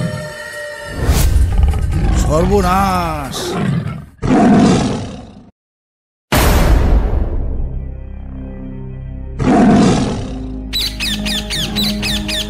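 A cartoon Sundarbans tiger lets out several loud, close, snarling roars with short gaps between them, mixed with a startled shout and other cartoon sound effects.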